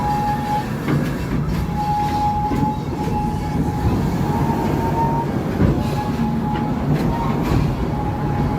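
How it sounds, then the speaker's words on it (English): Amusement park train at Busch Gardens Tampa Bay rolling steadily toward Stanleyville station, a continuous rumbling ride with faint squeals and clatter throughout. "We are now approaching our Stanleyville train station."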